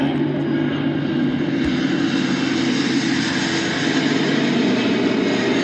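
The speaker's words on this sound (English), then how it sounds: "Look at that plane." Airplane engine droning overhead in a steady, loud, continuous rumble that holds constant throughout, with no talk heard.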